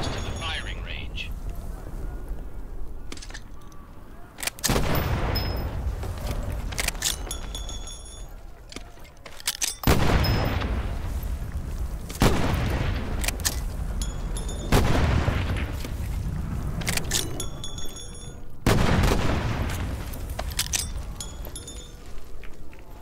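Repeated loud gunshots from a firing range in the World War II shooter Medal of Honor VR, booming shots every few seconds with reverberant decay between them, under game sound.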